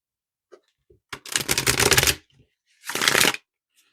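Two quick riffle shuffles of a tarot deck, close and crisp, each a dense fluttering burst under a second long with a short pause between.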